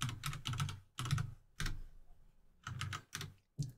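Typing on a computer keyboard while entering a command into an RC2014 mini Z80 modular computer system, heard as several quick bursts of close key clatter separated by short pauses.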